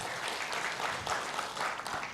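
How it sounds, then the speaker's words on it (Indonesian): A congregation at a church conference session gives a burst of lively applause, a dense, even wash of many people clapping throughout the short moment. "Kita berikan tepuk tangan yang paling meriah buat Tuhan."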